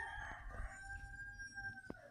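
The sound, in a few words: chicken clucking in Roblox Granny video game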